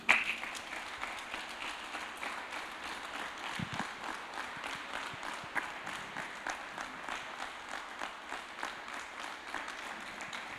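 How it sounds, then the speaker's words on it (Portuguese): Congregation at a Brazilian church communion service claps together in sustained, even applause, heard somewhat distant and faint and lasting throughout with little variation. "Palmas para Jesus."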